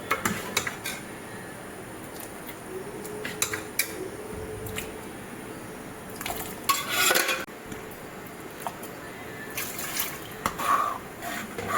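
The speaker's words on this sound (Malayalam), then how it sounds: "നമ്മുടെ സാമ്പാർ തിള ഇങ്ങനെ വന്നുകൊണ്ടിരിക്കണം." A pot of tiffin sambar simmers and bubbles with a steady low wash, broken by occasional clinks and scrapes of a spoon stirring against the pot.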